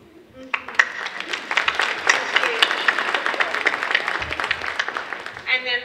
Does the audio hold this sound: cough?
no